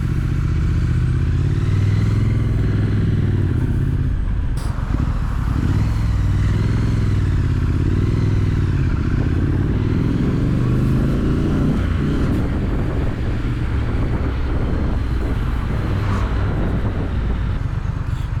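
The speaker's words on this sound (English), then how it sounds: "Doesn't sound too bad, to be fair, for a stock exhaust." Loud, steady Triumph Street Scrambler engine with stock exhaust idling and revving with a throaty rumble, continuous throughout with no voices.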